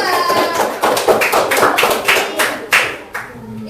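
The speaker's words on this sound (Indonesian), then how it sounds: "Tepuk tangan buat kelompok 2." A classroom of students clapping for group 2, a short burst of loose, uneven hand claps close by, thinning out toward the end with a voice briefly audible.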